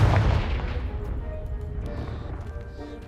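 A Confringo blasting spell goes off in Hogwarts Legacy, a single loud booming explosion up front that decays into a long rumbling, crackling tail of falling debris.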